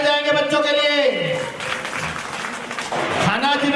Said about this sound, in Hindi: जोरदार ताली बजाएंगे बच्चों के लिए